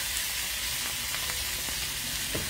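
Onions and Italian sweet roasted peppers sautéing in a pan over a fireside chulha, giving a continuous close sizzle and crackle with a few soft stirring clicks.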